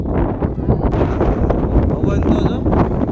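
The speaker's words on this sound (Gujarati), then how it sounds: "પવન તો જો" Strong gusty wind on a house rooftop under dark clouds before rain roars and buffets the microphone loudly and close throughout.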